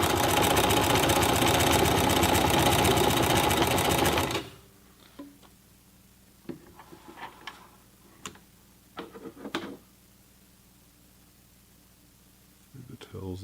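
A Sears Kenmore 12781 sewing machine stitches through four layers of leather with a loud, rapid mechanical chatter for about four seconds, then stops, leaving quieter clicks and handling sounds while a person talks.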